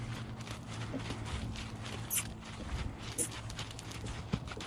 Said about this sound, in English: That's a nice little lope there.